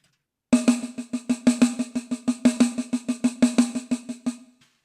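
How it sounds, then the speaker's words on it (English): A snare drum struck alone in an even, fairly slow run of about twenty crisp hits, each sharp and close, then stopping. "On the snare, just on the snare, it sounds something like this."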